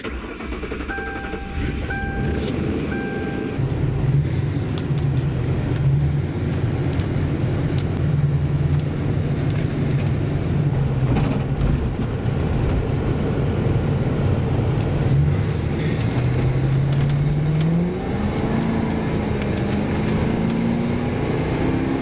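A Ford Crown Victoria cruises down the road with a loud, steady engine drone and road rumble from inside the cabin, the engine pitch climbing as it accelerates near the end.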